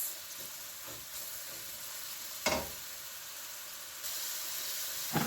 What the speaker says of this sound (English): I'm going to stir my onion in here, and I'm going to let this onion in here for at least 3 to 4 minutes